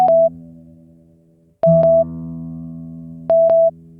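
Reference tones from the gStrings guitar tuner app: three steady electronic beeps, each a short higher tone followed by a sustained lower tone, sounding alone, clear and fairly loud, with brief pauses between them.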